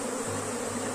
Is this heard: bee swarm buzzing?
yes